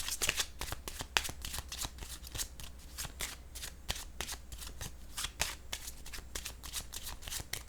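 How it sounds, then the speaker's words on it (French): Cards shuffled and laid out during a card reading, a dense close run of riffling snaps and flicks with no talking. "je vais déposer une carte sur narcissique"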